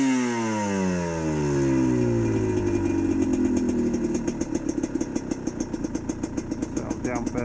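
A GPX TSE 250R motorcycle engine fitted with an XTNG carburettor, loud and close, winding down in pitch and then settling into a fast, even putter, with a voice briefly over it.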